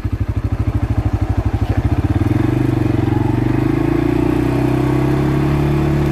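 Loud, near engine of a 2022 CForce 500 ATV pulsing steadily in low gear, its throb rising in pitch and smoothing into a sustained drone as it pulls away.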